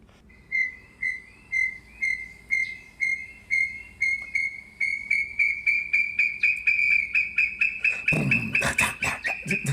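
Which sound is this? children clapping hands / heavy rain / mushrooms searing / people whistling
people whistling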